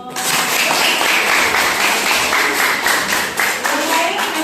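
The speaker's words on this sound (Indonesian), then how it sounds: "Tepuk tangan dong." An audience at a school session breaks into loud, dense clapping that holds steady for the whole stretch, close and energetic.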